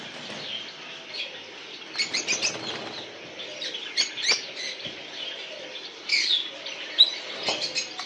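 Lovebirds at a bird farm, with repeated bursts of wing flapping and scrabbling among short chirps and tweets, fairly close and scattered across the cages.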